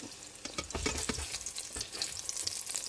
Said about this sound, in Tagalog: Iprito ko muna yung manok.